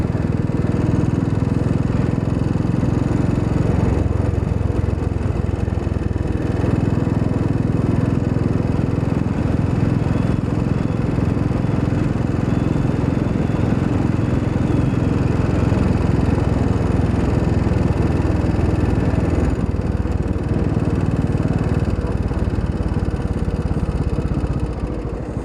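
Royal Enfield motorcycle engine droning steadily throughout while riding through roads with speed bumps and a roundabout near 'A' Mountain, loud and continuous with low rumble and wind noise, fading slightly at the very end.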